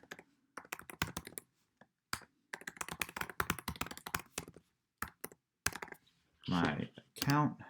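Quick runs of close, crisp computer keyboard typing tap along in irregular bursts, ending with a few louder clicks.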